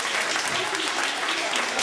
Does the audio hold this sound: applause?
yes